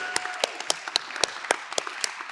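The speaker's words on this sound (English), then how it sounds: "Let's give her another round of applause" A sparse round of applause comes from a small audience, with individual hand claps clearly separated and irregular, close and crisp, each clap standing out over a quiet background.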